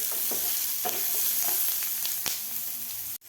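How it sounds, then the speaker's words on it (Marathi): Onion, garlic and ginger fry in a pan over medium heat with a loud, steady close sizzle, marked by brief scraping ticks from stirring, with no voices. "आता कांदेबरोबर आपल्याला लसूण आणि आलंसुद्धा एक मिनिटभर भाजून घ्यायचं आहे"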